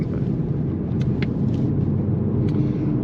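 A 2023 Toyota GR Supra A91-MT Edition with its inline-six engine in sport mode drives along, giving a steady, deep rumble heard from inside the car.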